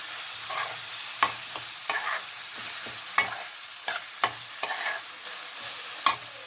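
Green chili and ginger paste sautéed with fresh turmeric in a pan for pickle, a continuous close sizzle broken by several sharp scrapes and taps of a spoon stirring against the pan.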